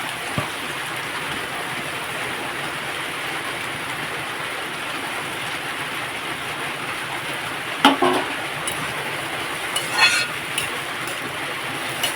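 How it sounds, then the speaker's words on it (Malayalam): Lemon pieces for a pomegranate-lemon pickle sauté in sesame oil, producing a continuous, even sizzling hiss close by, with a few brief clicks and scrapes near the end. "ഈ നാരങ്ങ നന്നായിട്ട് എണ്ണയിൽ കിടന്നൊന്ന് വഴണ്ട് വരണം"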